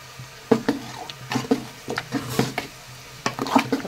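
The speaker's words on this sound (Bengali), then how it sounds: "তারপরে ভালো করে মিশিয়ে নিচ্ছি।" Spoon stirring rice and lentil khichuri with turmeric water in a pot, giving close, irregular scraping and squishy knocks with a soft sizzle underneath, and no voices.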